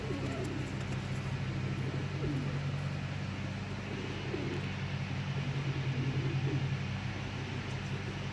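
Pigeons cooing, a low soft repeated murmur of coos under steady background rumble and hum, continuous throughout with no talking.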